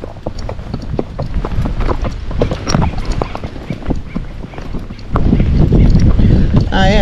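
Icelandic horse hooves clopping in a quick, steady gait while ridden on a trail, close and loud with wind buffeting the microphone, the wind growing stronger toward the end.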